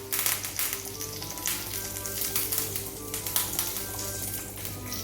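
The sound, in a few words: curry leaves sizzling in hot oil for tempering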